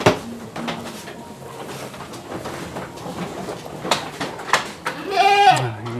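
Etawa goats in a pen give several bleats amid general farmyard background noise, with one louder, drawn-out bleat near the end.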